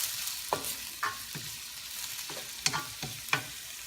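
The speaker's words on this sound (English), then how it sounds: "Give it a good stir." Shrimp paste being stirred in a cooking pan, a low sizzle under a handful of distinct scraping strokes of the spatula, close and fairly quiet.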